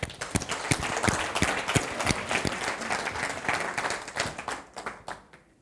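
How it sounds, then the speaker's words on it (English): Audience applause at a talk on women's safety and leadership, a dense wash of clapping from a crowd that holds steady for several seconds, then thins and fades near the end. "Applause for them."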